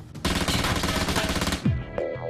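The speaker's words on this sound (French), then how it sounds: "On peut tirer plusieurs coups consécutifs sur la cible en continu." Kriss submachine gun firing in continuous automatic bursts in an urban combat setting, a loud dense rattle of rapid shots lasting over a second, followed by a few separate sharp reports and ringing echoes.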